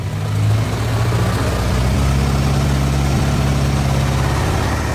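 An Isuzu 6UZ1 diesel engine in an SH450 / CX450B excavator runs loudly and steadily, a deep continuous drone with a slight shift in pitch early on and no talking.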